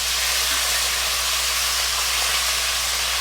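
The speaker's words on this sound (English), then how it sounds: "So I'm just going to throw the tomatoes and the tomatillos in there." Tomatoes and tomatillos dropped into a hot pan with golden onion and garlic, sizzling in a loud, continuous, even hiss, close and steady with no pauses and no talking.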